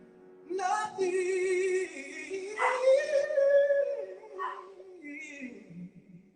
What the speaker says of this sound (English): Even the dog's singing.